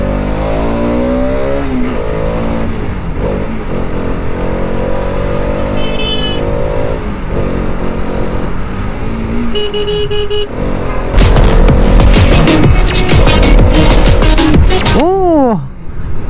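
Motorcycle ridden through city traffic on a road where a U-turn is needed, engine droning steadily with rising revs, passing vehicles and horn toots, louder engine and traffic roar in the second half.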